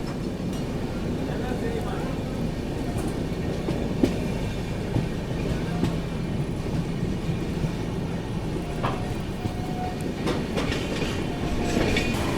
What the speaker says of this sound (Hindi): ये गई आप लोगों की कर्नाटका संपर्क क्रांति एक्सप्रेस टुवर्ड्स हजरत निजामुद्दीन की ओर।